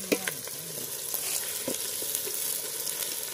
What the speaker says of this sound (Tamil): லைட்டாக வெங்காயம் வதக்கு நல்லா